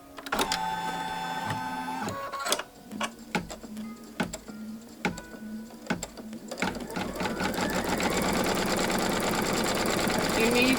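A sewing machine stitches fabric for a bunny pillow wrap, first in short stop-start bursts with clicks while a voice talks, then settling into a sustained, steady whirring run.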